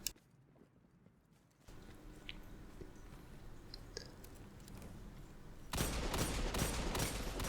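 Rapid bursts of gunfire from a Destiny 2 Crucible competitive match, dense volleys of shots close and loud, growing heavier toward the end with no speech.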